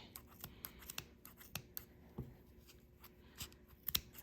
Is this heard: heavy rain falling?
no